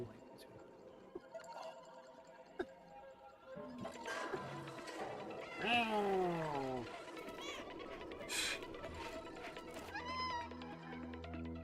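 A cat meows several times over game-trailer music, with a strange cyber-city adventure setting, the cries rising and falling clearly in the foreground against a soft musical bed.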